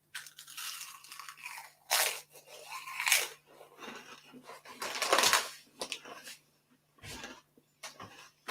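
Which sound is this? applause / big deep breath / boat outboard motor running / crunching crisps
crunching crisps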